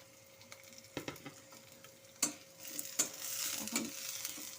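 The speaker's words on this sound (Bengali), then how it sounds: "পেঁয়াজ, রসুন, আদাটা ভালো মতো করে একটু লাল লাল করে ভাজা হওয়া পর্যন্ত" Onion, garlic, ginger and split green chilies fry in a pan with a soft, steady sizzle, punctuated by a few sharp spatula clinks and stirring knocks, fairly quiet and close, without talking.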